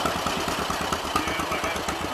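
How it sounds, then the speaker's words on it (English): A tractor engine runs steadily and close by, with a rough, rhythmic knocking chug throughout and no voices over it. "We're going on a tractor ride."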